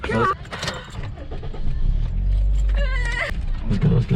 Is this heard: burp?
no